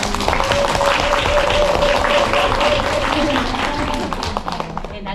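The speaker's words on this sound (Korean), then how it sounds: "박수 한번 주세요." Audience at a Korean education case-presentation session breaks into sustained applause, dense and steady clapping that fades toward the end, with some voice underneath.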